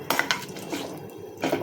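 A few cashews drop into a pan for roasting, giving quick bright clinks against the metal followed by soft scraping of a spoon, all close and brief.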